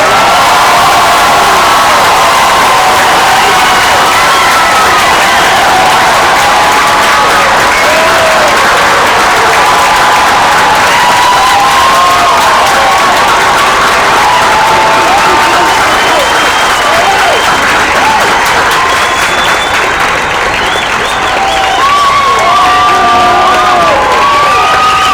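Large crowd at a U.S. Air Force basic military training graduation cheering, whooping and applauding continuously and loudly, with scattered shouts rising above the sustained roar.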